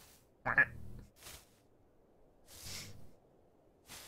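The goose in Untitled Goose Game gives several short, nasal honks spaced apart, each brief and clear against near silence.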